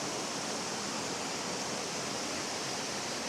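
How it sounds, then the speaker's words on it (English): A raging river rushes far below a lookout in lush forest country east of northwest Washington, giving a steady, dense roar of churning water with no breaks for the whole stretch. "This raging river right below us."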